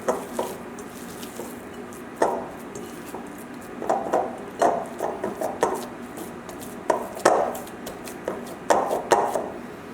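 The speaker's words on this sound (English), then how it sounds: "And mix it together again." Ground meat for balsamic onion burger patties worked by hand in sections in a bowl, making soft squishing pats and knocking taps in irregular bursts, close and fairly loud, with no talking.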